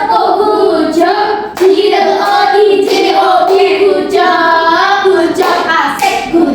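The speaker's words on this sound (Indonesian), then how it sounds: "Tepuk hujan" A primary school class claps hands together in a rain clap game, rapid patter of many hands in repeated bursts, while children's voices chant loudly over the clapping.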